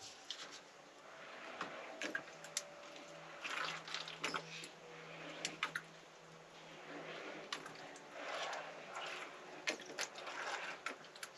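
Water is poured into a quail egg incubator, giving faint, uneven splashes and gurgles with small clunks of handling, quiet and close in an otherwise still room.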